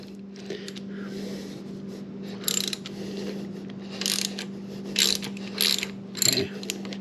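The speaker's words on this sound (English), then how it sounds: "and then I'm going to loosen up that top clamp" A 1/4 inch Allen wrench loosens the top clamp bolts on a Harley Lowrider ST handlebar, giving several short, close metallic ratcheting bursts over a steady hum, with brief pauses between turns.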